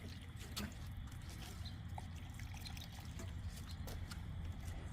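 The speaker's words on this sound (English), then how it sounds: "If I get enough in these 2 upper pots, they drip down into the pots below them." Water trickles and drips from upper strawberry pots into the pots beneath, a soft, irregular patter of small drops with occasional splashes over a continuous outdoor hiss.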